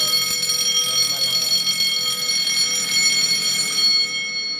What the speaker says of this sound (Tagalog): So mag-a-alarm po yan.